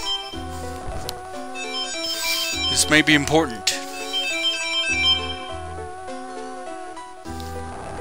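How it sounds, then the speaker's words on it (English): A phone ringtone from an incoming call plays a repeating melodic tone pattern at steady volume throughout, with someone speaking over it in the middle. "One moment, chat, I'm getting a phone call."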